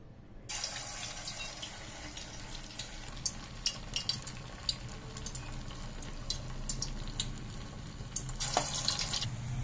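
Sago (saggubiyyam) punugulu fritters sizzling as batter drops into hot oil, a steady crackling fry with scattered pops and a louder burst near the end, no talking.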